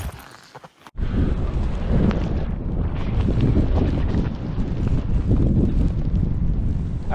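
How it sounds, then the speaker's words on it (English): Strong, steady wind roars across the Lhotse face on Mount Everest, buffeting the microphone with loud, continuous gusts after a brief quiet start. "Oh, it's getting windy."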